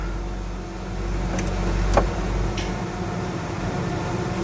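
Ford Ranger pickup with a newly installed transmission creeping along under its own power: a steady low engine drone and hum, close and even throughout, with a couple of faint clicks.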